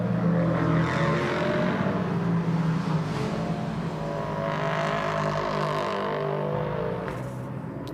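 A prototype race car at the Hockenheimring roars past the line in a loud, sustained engine blare that sweeps and fades slightly toward the end, with no talk over it.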